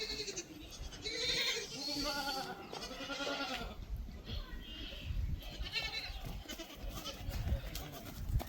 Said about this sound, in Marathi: हे यावेळेसचे 3 पिल्ले आहेत ह्या शेळीचे